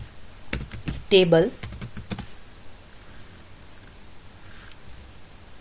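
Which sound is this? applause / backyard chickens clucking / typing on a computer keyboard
typing on a computer keyboard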